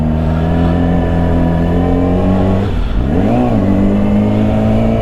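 A motorcycle with a clutch needing adjustment, ridden in slow traffic, its engine droning loud and close in a steady hum, then dipping as the revs are brought down and swelling back up.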